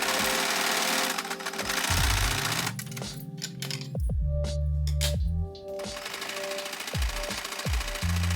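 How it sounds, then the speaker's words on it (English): A domestic sewing machine stitching a waistcoat's lining to the main fabric, running in fast mechanical bursts with short pauses and clicks between runs, close and clear. "Now it's time to sew the lining onto the main fabric"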